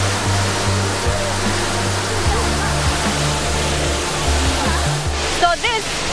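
Water falls into the cooling tower basin of a geothermal power plant, a loud steady rushing with a low mechanical hum beneath it and a brief faint voice near the end.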